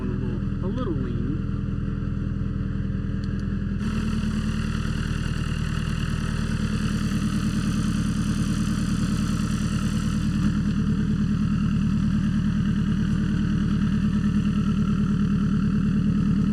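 A turbocharged Honda Civic EK engine idles running lean, a loud, steady low rumble that holds unbroken throughout, with a brief voice near the start.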